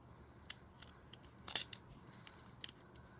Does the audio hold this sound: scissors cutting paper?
yes